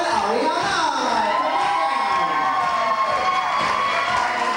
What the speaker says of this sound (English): Big round of applause for your best man and your maid of honor